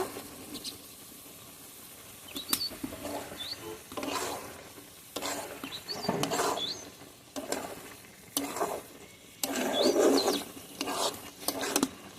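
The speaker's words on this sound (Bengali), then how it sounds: "এখন টমেটোর সঙ্গে মাংসটা ভালোভাবে কষিয়ে নেব।" Meat and chopped tomato are stir-fried in a pan, with repeated close scraping strokes of a spatula over a steady sizzle in uneven bursts.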